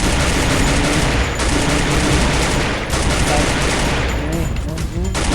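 Gunfire in the Free Fire video game rattles continuously in loud, dense bursts and rapid volleys, filling the whole stretch along with other game sounds.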